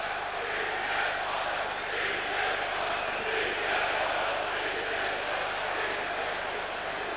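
Football stadium crowd at an AIK match cheering ahead of a free kick in a good position, a dense continuous roar of many voices with rising and falling chants, distant and steady throughout.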